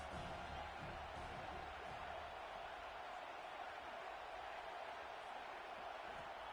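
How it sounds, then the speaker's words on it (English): Steady stadium crowd roar from a college football video game, Cincinnati at Utah, a continuous loud wash of voices with no breaks, rising to make life hard for the offense. "This crowd trying to make life miserable for this offense."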